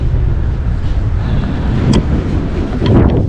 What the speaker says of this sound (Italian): il vento proprio non mi vuole lasciar stare.